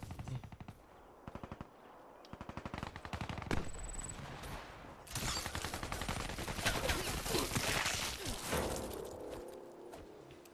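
Gunfire in a video game: rapid automatic bursts, then dense continuous shooting with crashing impacts, loud throughout and with no talking.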